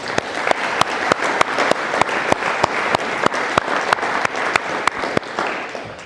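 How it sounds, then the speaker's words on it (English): An audience claps at an Air Force chiefs recognition ceremony, dense applause running throughout with a loud, regular sharp clap close by cutting through it roughly every quarter second. "How about a round of applause for your awesomeness?"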